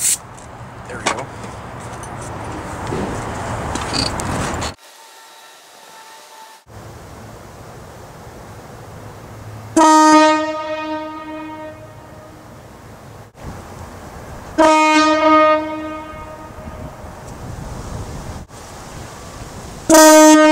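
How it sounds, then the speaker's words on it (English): Loud portable air horn mounted on a motorcycle blasts in three long, harmonically rich honks spaced several seconds apart, each sustained for a couple of seconds over steady background rumble. "Now that's a motorcycle horn."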